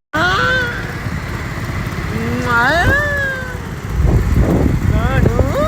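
A motorcycle engine idles with a steady low putter while people shout and talk loudly over it at a village fair.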